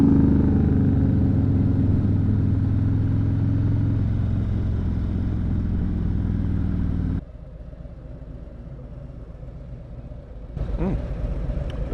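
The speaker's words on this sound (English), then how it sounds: "Nice truck." A truck passing on the road, a loud, steady engine rumble that holds for several seconds, then drops away abruptly, leaving quieter background noise before another sound begins.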